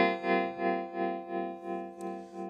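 Sustained electric guitar chord through a Chase Bliss Audio Gravitas analog tremolo pedal at full depth, pulsing in deep, smooth waves, about four swells per second, volume rising and falling steadily.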